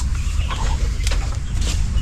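Chickens cluck close by, with short overlapping calls over a low rumbling background.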